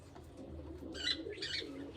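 A pigeon coos in a rooftop pigeon house, giving two short soft calls over a low rumbling background.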